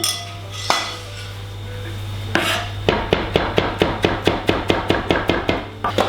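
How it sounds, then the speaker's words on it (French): A knife chops snail soup ingredients on a board in a steady run of sharp, close knocks, starting with a few scattered strikes and then settling into a regular rhythm over a low background hum. "Donc on va hacher ceci au couteau et ensuite au robot"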